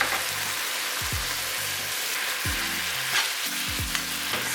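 Edamame stir-fry in a pan with soy sauce, ginger, vinegar and garlic, giving a steady close sizzle broken by several low thuds and scrapes as the pan is stirred. No one speaks.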